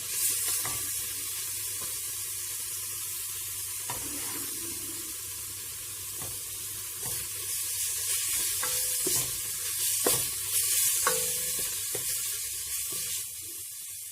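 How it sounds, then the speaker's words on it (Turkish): Steady sizzling of carrots sautéing in oil in a pot, with occasional stirring clatter and scraping over a continuous hiss. "Havuçlarımızı Yağımızla kavuralım."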